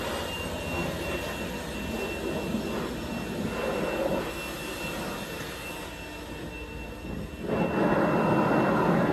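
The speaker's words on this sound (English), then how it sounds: "Then you just got to blow the exhaust off because it gets some dust on it." Compressed air blasts dust off the exhaust of a Fendt Ideal 9 machine during harvest, a loud, steady roaring hiss that briefly dips and then surges louder near the end.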